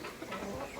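A farmyard chicken clucking briefly up close, a few soft clucks over low background noise in under a second.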